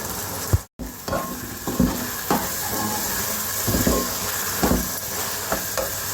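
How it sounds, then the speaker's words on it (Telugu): Ginger garlic paste and coriander frying in a pan, a close steady sizzle broken by repeated stirring scrapes and taps, briefly cut silent near the start. "ఇప్పుడు ఒక పెద్ద స్పూన్తో అల్లం వెల్లుల్లి పేస్ట్ వేస్తున్నాను। అయిపోయి కదా, కొద్దిగా కొత్తిమీర వేస్తున్నాను।"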